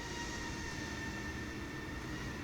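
A steady, droning engine rumble with a faint high whine holds constant throughout, an aircraft landing at St. Louis Lambert International Airport in Microsoft Flight Simulator.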